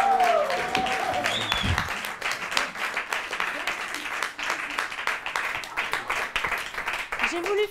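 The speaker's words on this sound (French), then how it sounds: "on l'applaudit bien fort" A studio audience on a French game show claps to welcome a first-time contestant, dense applause running throughout, with a brief swooping tone near the start.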